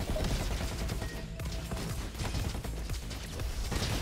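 Dense gunfire and explosive bursts from a Roboquest shooter game fight, with a grenade blast among rapid loud shots and a steady wash of combat noise throughout, no talk.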